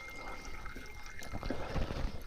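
Oil draining from a Deutz tractor during an oil change, a steady liquid trickle and splatter, continuous and fairly close, with no talking.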